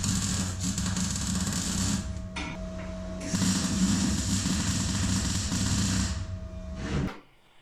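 A boat galley subframe is being tack welded. Two sustained stretches of harsh crackling hiss play over a low steady hum, separated by a short pause, before the sound cuts off.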